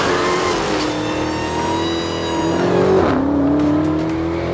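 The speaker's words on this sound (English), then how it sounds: "Well, here we are inside the Dodge Demon, taking it for a little drive." A Dodge Challenger SRT Demon with a supercharged 6.2-liter Hemi V8 revs while driving, a loud close engine note with rising and falling pitch and a sharp gear-change dip near the end.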